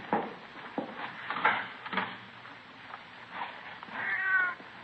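A cat in a radio drama meows several times, with short knocks and rustles between the cries and a longer, drawn-out meow near the end, all at moderate loudness with no voices.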